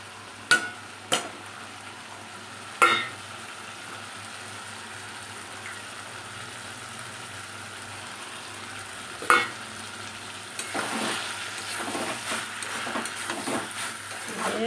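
Potato and okra fry in a pan with a soft, steady sizzle, broken by a few sharp knocks of a utensil against the pan, then a rising louder crackle as the frying intensifies near the end.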